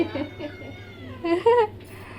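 A cat meows a couple of times close by in a home in a hometown village, short tonal cries rising briefly over faint background voices.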